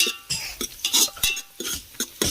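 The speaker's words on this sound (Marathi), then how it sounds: "मसाला टाकेल आई धूळ जाम झालाय चांगलं परतून घ्यायचं लाल होईपर्यंत" Chicken masala stirred and sautéed in a pan over a wood-fired stove, with close, rhythmic scraping and clinking of a spoon against the pan in quick strokes.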